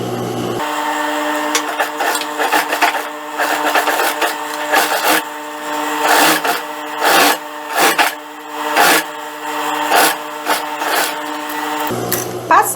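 Sewing machine running reinforcement seams on pantacourt trousers, a steady mechanical whir broken into bursts of rapid stitching with brief pauses, close and fairly loud, no talking.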